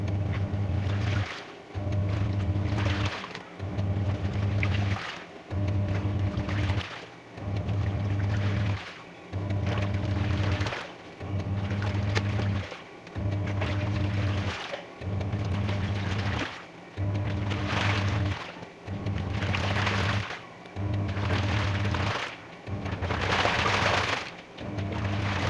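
VON 10 kg twin tub semi-automatic washing machine churning a load of laundry in water, a steady rhythmic slosh of agitation pulses about once a second, continuous and close, no talk.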